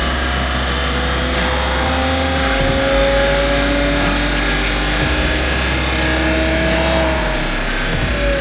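A Toyota Supra runs at full throttle on a rolling-road dynamometer, its loud engine note droning and climbing steadily in pitch as the rollers let it accelerate, with a steady heavy rumble throughout and no voices.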